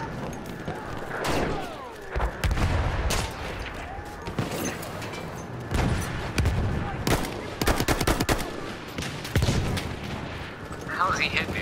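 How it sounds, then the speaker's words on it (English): Bursts of automatic machine gun fire in a Battlefield video game rattle in repeated volleys amid other gunshots and in-game battle noise, with players talking over the action. "With a machine gun."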